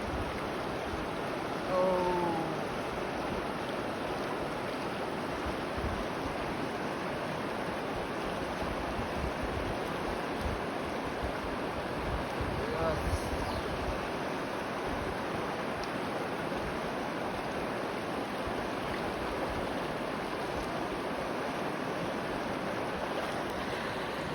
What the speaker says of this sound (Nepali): म पानीमा टक्क हल्का स्नान गर्दैछु